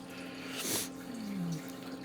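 Stored water pours out of a tarp roof in one short splashing gush that swells and fades within about a second, set against a low steady hum outdoors.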